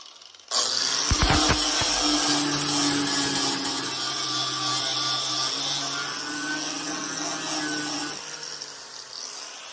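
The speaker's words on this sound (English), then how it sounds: "what I'm going to do now is grind it down with a flap disc and look for any pinholes" An angle grinder with a flap disc grinds down a weld on a small patch panel of a VW Beetle, spinning up sharply and holding a loud, steady, high-pitched rasp for several seconds before winding down, close and with no talk.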